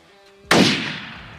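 A single rifle shot cracks out loud and close during a Wyoming mule deer hunt, a sharp onset followed by a long rolling echo that fades across open country.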